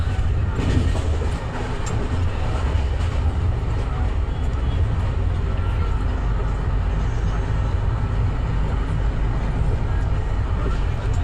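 Gitanjali Express passenger train running at speed, a loud continuous rumble with rhythmic wheel clatter heard from inside the carriage, steady throughout, with voices faintly beneath the noise.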